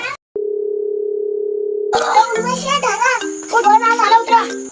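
A steady telephone dial tone hums for about a second and a half, then cuts off as a phone rings through and voices begin talking over it.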